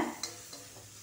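A spatula scrapes through tomato, crushed chili, cumin, ginger and garlic sautéing in a pan, with a steady sizzle and a couple of sharp stirring strokes close up.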